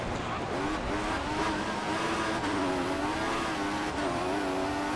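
An F1 race car in the F1 2014 video game whines at high revs through a spin mid-track, its engine pitch wavering and dipping continuously over a loud, dense game soundscape.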